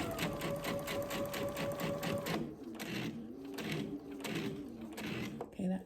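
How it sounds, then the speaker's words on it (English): A sewing machine stitching a foundation paper-pieced table runner, a fast rhythmic mechanical chatter close by for about two seconds, then slower pulsing stitches as someone talks over it. "we want to stitch just before this 45-degree crease that we've made"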